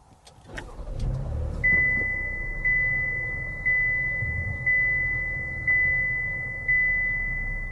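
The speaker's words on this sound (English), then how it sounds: "Now to start it up, put your foot on the brake and press the standard push button start." 2023 Chevy Traverse started by push button: brief clicks, then the engine cranks and catches into a steady idle, with a regular chime repeating about once per second.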